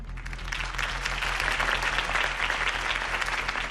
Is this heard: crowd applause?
yes